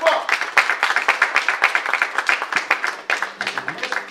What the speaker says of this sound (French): Si vous pouvez applaudir très fort